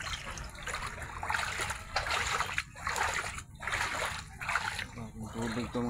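Sea water flooding around houses, with steady trickling and splashing close by and a voice talking over it throughout.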